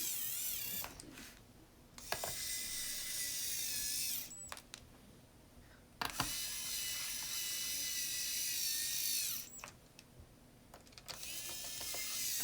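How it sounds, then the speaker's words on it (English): An electric screwdriver driving screws on a Dell Inspiron 15 5378 laptop, quiet whirring bursts of a few seconds each separated by short pauses, close and alone. "Now the screwdriver is not very good for loosening screws."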